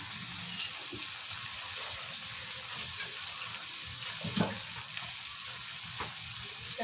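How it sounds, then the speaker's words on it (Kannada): Cashew nuts and curry leaves fry in a pan of oil for a chicken dish, giving a steady, close hissing sizzle with a few faint stirring clinks and no talk. "ಸ್ಲಿಮ್ಮಲ್ಲಿ ಇಟ್ಟು ಫ್ರೈ ಮಾಡಿ."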